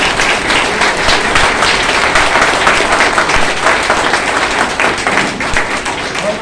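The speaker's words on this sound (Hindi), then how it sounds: "जोरदार ताली बजाइए पीटर्स के लिए।" Audience applause at a star agent award ceremony in a hotel meeting hall, a dense, steady wash of clapping that holds evenly throughout with faint voices mixed underneath.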